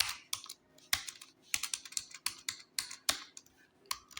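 Keys clatter on a computer keyboard during order entry in accounting software, a quick run of crisp, close, irregular clicks and taps with a few sharper key strikes.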